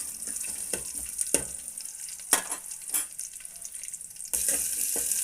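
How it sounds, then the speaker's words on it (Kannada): Onions frying in hot oil with garlic for a spicy green chilli dal, a steady close sizzle broken by a few spatula scrapes and stirs, with the frying growing louder near the end. "ಈರುಳ್ಳಿ ಹಾಕಿ ಒಂಚೂರು ಚೆನ್ನಾಗಿ ಬಾಡಿಸ್ಕೊಳ್ಳೋಣ"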